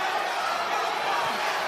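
A boxing arena crowd during a bout between Otabek Kholmatov and Raymond Ford, a dense, steady roar of cheering that fills the space evenly throughout.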